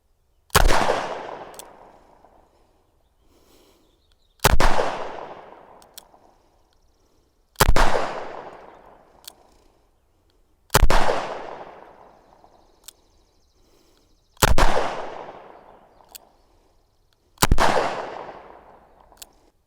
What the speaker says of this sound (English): I'm gonna just try and slow fire a few rounds